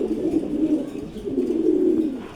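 Several male pigeons in a loft coo in low, throaty, rolling phrases, two long overlapping bursts of close, steady cooing with no talk.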